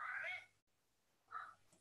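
A house cat meows twice, two short, fairly faint calls separated by a brief silence, with no talk over them.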